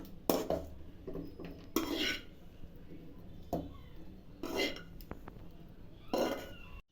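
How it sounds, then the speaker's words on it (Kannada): Fried onion and garlic tipped into a steel mixer jar, with a few sharp clinks and scrapes of utensils against metal spaced through the clip, close by and moderately loud over a quiet kitchen background. "ಬಿಸಿ ಆರಿದೆ ಜಾರಿಗೆ ಹಾಕೊತಾ ಇದ್ದೀನಿ ಫ್ರೈ ಮಾಡಿರೋದು ಈರುಳ್ಳಿ ಬೆಳ್ಳುಳ್ಳಿ ಎಲ್ಲ"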